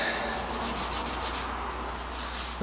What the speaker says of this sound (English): It's just a matter of sweeping up the floor